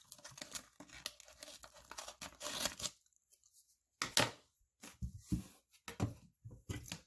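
Someone cuts and handles a strip of Lego-style water tape, producing close, quiet crinkling and tearing rustles in irregular bursts with a short silent gap midway, and no speech.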